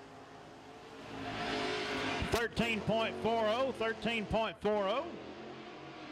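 A crate late model race car laps a speedway, its engine revving and easing off in repeated swells as it passes through the turns, with an announcer talking over the roar.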